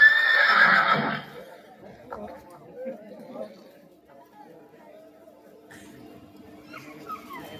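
A horse gives a loud, close whinny at the start, then fades into quieter background with people talking and faint movement.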